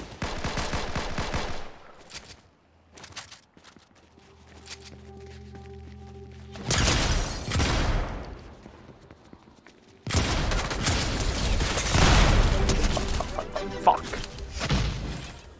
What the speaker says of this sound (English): There ain't no way this dude's hitting me with a freaking shotgun and I'm not even seeing him.